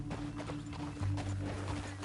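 Horse hooves clop rapidly in a galloping rhythm in a video game, close and steady over a low rumbling game soundtrack.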